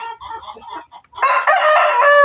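Village chickens on a semi-intensive farm cluck in quick, scattered bursts, then a rooster crows loud and close, its call sustained to the end.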